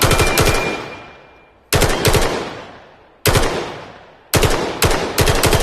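A gun fires in the VR shooter game Vail VR, four loud bursts of rapid shots, each trailing off into a long echoing decay before the next burst.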